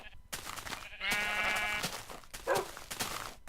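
Sheep in the Minecraft video game bleat in several distinct, fairly loud calls, the longest lasting nearly a second, sounding close by over a low background, with no talking.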